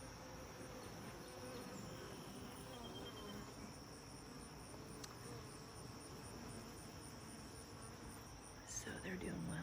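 Honey bees buzz continuously around a busy backyard hive, a faint, even hum that holds steady with little change in level.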